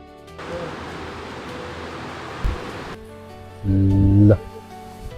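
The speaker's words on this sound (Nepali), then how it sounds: "अब मनसुनवाला भाइब्स होला जस्तो पानी परिरहेछ" Monsoon rain pours steadily as a dense, hissing wash for about three seconds on an outdoor bike trip, then cuts off, leaving a quieter background with a brief thump and a short humming, tonal burst near the end.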